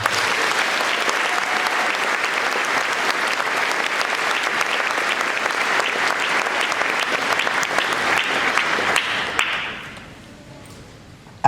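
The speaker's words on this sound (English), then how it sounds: "a big round of applause for you." A graduation ceremony crowd at Canmore Collegiate gives its teachers a big, loud round of applause, dense sustained clapping that cuts off sharply near the end and leaves quiet room tone.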